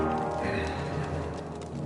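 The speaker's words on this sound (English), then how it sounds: "Bring the horses!" Horse hooves in a video game clop in a steady rhythm beneath a dense, continuous wash of background sound.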